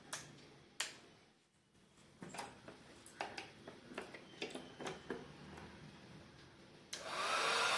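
Hair dryer blowing at a shoulder pain point during frozen shoulder treatment, a steady airflow hiss that swells loud at the end, with scattered clicks and taps earlier in the room.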